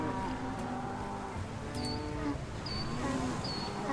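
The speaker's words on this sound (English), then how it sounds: "You can just hear lots of cows." Cattle in Crusader Kings 3 keep up a soft, overlapping chorus of moos beneath a busy ambient game soundscape, with a few short high chirps scattered through and no voices.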